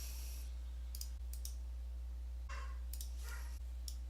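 A computer mouse and keyboard click in short, scattered bursts while a small text box is made and text typed in. The taps are faint over a steady low electrical hum, and no one speaks.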